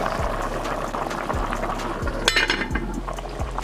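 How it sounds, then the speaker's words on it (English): Water pours steadily into a pot of Jamaican stew peas with bubbling and gurgling, punctuated by a few soft clinks of metal. "So just add some water to it."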